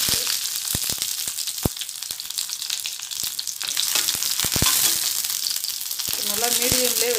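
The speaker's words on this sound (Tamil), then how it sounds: "நல்லா மீடியம்லே வச்சு நல்லா அதை ஃப்ரை" Cut brinjal pieces frying in hot oil in a pan on medium heat for a biryani side gravy, with a continuous dense sizzle and scattered pops and crackles up close, plus a few brief scrapes.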